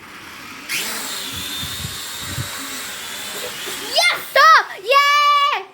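Small drone motors whine up in rising, stepped pitches near the end, preceded by a steady hum and scattered chatter, loud and close.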